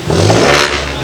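A car engine revs hard at a car meet during an S3 rev-off, a loud sustained roar with a rising pitch that holds steady for about a second, close by.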